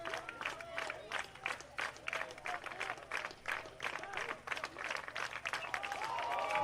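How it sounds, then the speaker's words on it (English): A crowd at a high school baseball playoff game between Wetumpka and Pike Road claps and cheers in a steady, rising patter, fairly faint and distant, swelling louder toward the end. "The Patriots crowd starting to feel it now."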